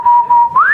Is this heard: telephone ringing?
no